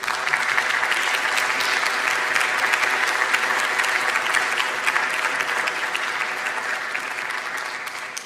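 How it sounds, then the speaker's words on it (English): Sustained applause from a concert audience at a noontime chamber music recital by a piano trio in Sacramento, steady and dense for the whole stretch, tapering slightly toward the end. "One more round of applause,"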